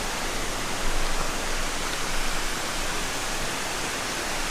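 A rain-swollen waterfall pours down a mountainside along the Hanging Lake Trail, a steady, dense roar of falling water that fills the air evenly from start to finish with no pauses.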